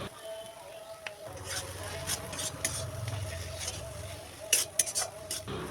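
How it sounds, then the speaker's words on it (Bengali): A utensil stirs pointed gourd paste in a pan, making soft scraping and patting sounds with occasional clinks against the metal, close up, with a faint steady hum behind. "এবার একটু নেড়ে চেড়ে দেব"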